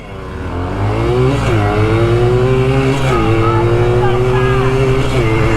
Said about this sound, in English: Oh, Braydon's bike sounds so loud.